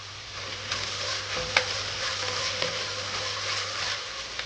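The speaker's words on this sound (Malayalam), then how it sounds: "ഇതിലേക്ക് ജിഞ്ചർ ഗാർലിക് പേസ്റ്റ് ചേർക്കുക" Ginger garlic paste frying with onions in a pan for beef curry, a steady close sizzle with light scraping stir strokes and a few utensil taps throughout.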